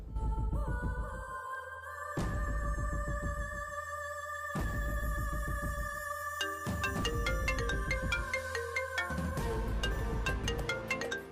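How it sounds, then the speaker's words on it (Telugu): An incoming call on a mobile phone rings out as a melodic electronic tune, repeating phrases of bright tones over a steady beat, loud and alone for about eleven seconds. "ఈ నందిని ఎందుకు ఫోన్ చేస్తుంది?"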